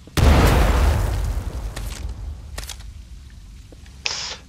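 A single loud frag grenade explosion in the video game Titanfall 2, a sharp near blast with a long decaying rumble, followed by a few faint clicks and a brief hiss near the end.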